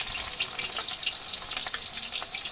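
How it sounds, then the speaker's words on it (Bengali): Onions are added to a hot frying pan in a home kitchen where potatoes have been fried. A steady, loud hiss and sizzle runs throughout with crackling pops, and no talk is heard. "এখন এই পেঁয়াজ দেওয়া হচ্ছে।"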